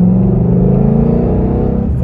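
A 2012 Mustang with a first-generation Coyote V8, X-pipe and no mufflers, heard from inside the cabin with windows up, holding a steady, loud, low exhaust drone around 3,000 RPM with no talking.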